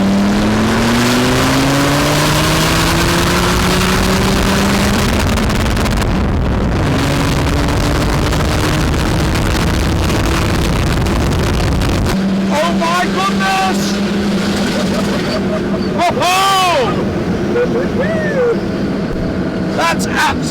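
A remapped Land Rover Td5 engine in an E2 on 38.5-inch tyres pulls hard in second gear, its loud diesel drone climbing steadily with rising pitch, then dropping and revving again amid wind buffeting and a few excited voices.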